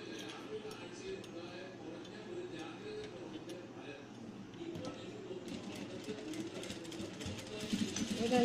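A sewing machine stitches a cloth face mask, its fast mechanical whirring and ticking running steadily under a person's speech and growing louder toward the end.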